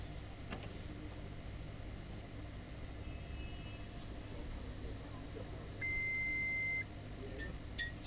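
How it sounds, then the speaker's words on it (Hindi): A HP M128fn printer with a cartridge error gives one long, steady electronic beep lasting about a second, clear against a quiet room hum. "लंबी बीप के साथ ये रुक जाता है।"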